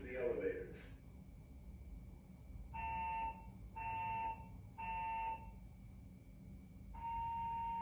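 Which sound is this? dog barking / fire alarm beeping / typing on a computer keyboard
fire alarm beeping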